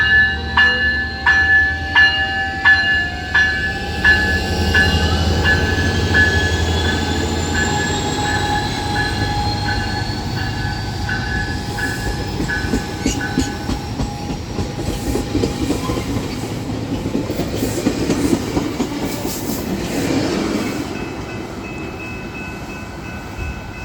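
Train 645 passes northbound through Encinitas, its horn sounding in repeated blasts before a long rolling rumble of wheels, clicking over rail joints and faint squeals as it goes by.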